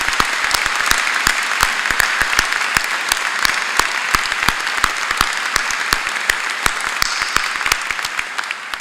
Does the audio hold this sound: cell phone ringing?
no